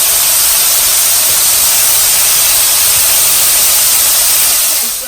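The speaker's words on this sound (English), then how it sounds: "So while we're waiting for the shrimps to get nice and golden brown, they're cooking over there" Shrimp frying in a pan for a po' boy, a loud, dense, steady hiss of sizzling that holds constant throughout and tapers off slightly at the very end.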